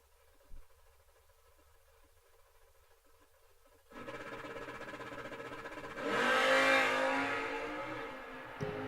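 A drag racing car makes its pass down the strip at an old-time drags event at Kil-Kare. After quiet, the engine suddenly roars in, then swells louder as the car launches, a sustained revving drone that fades slightly at the end.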